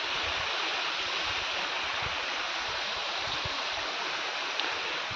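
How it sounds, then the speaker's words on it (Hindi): Constant loud roaring rush of a waterfall in a winter forest, a broad unbroken wash of falling water heard close, with no pauses. "ये देख लो मेरे पीछे वाटरफॉल"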